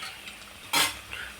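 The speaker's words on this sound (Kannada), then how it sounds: "ಈಗ ಇದನ್ನೆಲ್ಲ ಸ್ವಲ್ಪ ಎಣ್ಣೆಯಲ್ಲಿ ಫ್ರೈ ಮಾಡ್ಕೊಳ್ಳೋಣ." Whole spices frying in hot oil, with a brief loud sizzle burst in the middle of a quiet kitchen background and soft stirring noise around it.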